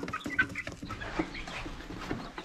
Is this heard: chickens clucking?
yes